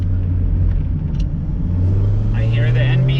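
Tires of a Mazda MX-5 NB squeal through a tight corner, a wavering high-pitched whine rising over the steady engine and road rumble for the last second, with voices talking throughout.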